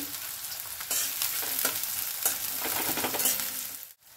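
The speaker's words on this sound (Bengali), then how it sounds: "অলিভ অয়েলটা এবারে দিয়ে দিলাম। এর ওপর আমি পেঁয়াজ কুচিটা দেব।" Chopped onion dropped into hot olive oil in a pan for chicken pasta sizzles loudly and steadily, with stirring scrapes throughout before the sound cuts off abruptly near the end; no voices are heard.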